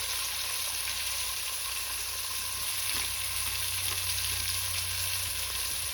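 Beef chunks brown in a pot for beef stew, giving a steady, close, bright sizzle and crackle of frying meat with faint stirring and a low background hum, no talking.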